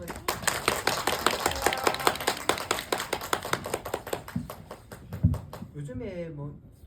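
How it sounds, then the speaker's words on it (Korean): Audience clapping after a film screening and talk at a small cinema, a dense burst of hand claps that thins out toward the end, with a voice starting to speak as it fades. "박수 한번."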